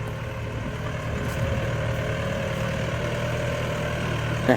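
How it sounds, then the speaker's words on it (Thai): A Yanmar EF725T tractor's four-cylinder, water-cooled, non-turbo diesel engine idles steadily with a low, rumbling drone and a constant mechanical hum, running on without breaks and with no voices. "เป็นเครื่องยนต์ 4 สูบนะครับเพื่อน ๆ4สูบ 4 จังหวะ ระบายความร้อนด้วยน้ำนะครับผม"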